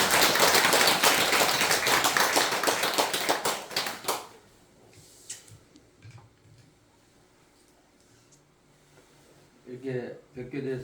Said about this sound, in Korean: 스님께 더 큰 박수